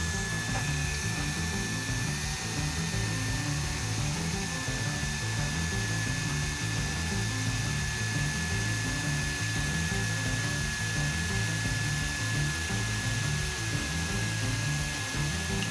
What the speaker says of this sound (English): Now I'm going to drill and tap the post.